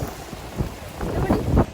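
Strong wind gusts buffet the microphone outdoors in a snowy Romanian winter, roaring in uneven surges that peak toward the end of a short burst, with a person's faint exclamations mixed in.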